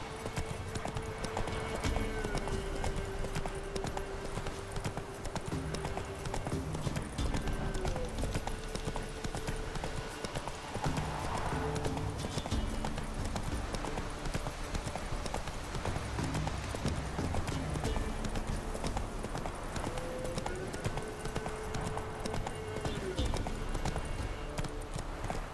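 In The Witcher 3, the horse Roach gallops with a steady, rhythmic clip-clop of hooves, loud and continuous over game music and ambience, with no talk.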